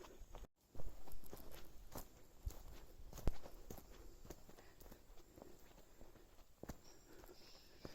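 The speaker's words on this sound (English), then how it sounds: "the only sound is the sound of my own footsteps, the sound of the wind" Own footsteps walking outdoors near a reportedly haunted bungalow in Abbott Mount, India, with wind: soft, fairly even steps crunch close by over a steady breathy wind hiss, with a few sharper louder scuffs.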